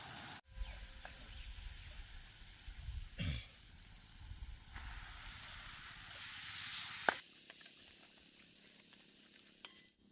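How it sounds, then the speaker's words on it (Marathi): Maggi noodles dropped into cooked tomatoes in a pan at a forest camping spot, giving a steady hissing sizzle with brief stirring scrapes and a sharp clink partway through, then settling into a quieter sizzle. "आता आपण त्याच्यामध्ये मॅगी टाकून घेऊ जे आपण मगाशीच शिजवून घेतलेली"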